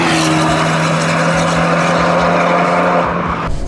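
An Abarth 124 Spider roadster's engine pulls loudly and steadily under way, a dense, strained drone with a sustained rising pitch that eases off at the very end.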